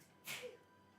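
A single quick sneeze, a sharp airy burst with a short voiced tail, faint against a quiet background.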